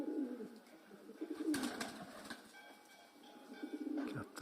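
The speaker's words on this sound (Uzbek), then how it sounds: "Kaptar o'ta chiroyli, bichimli, go'zal chiqdi." A pigeon coos softly in low, rounded calls, faint and somewhat distant, with a brief rustle partway through and no talking.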